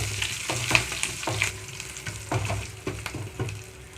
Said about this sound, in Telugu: ఆయిల్ హీట్ అయిన వెంటనే తాలింపు గింజలు వేసేసుకుంటున్నాను